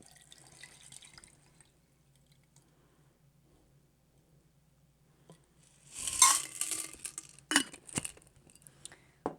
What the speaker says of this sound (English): And then you pour your drink into your glass like so.